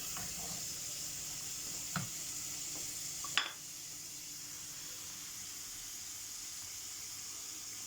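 Onions sautéing in a pan for home-canned winter green beans give a steady, quiet sizzle, with a couple of faint clinks from a utensil against the pan.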